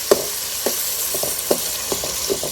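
Tomatoes with salt sautéing for a country duck curry, a steady loud sizzle punctuated by several scraping stirs of a spoon in the pan, no voices.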